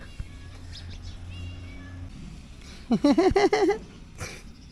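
A domestic cat gives a quick run of several meows close by, loud against a faint background hum, with a short quieter call afterwards.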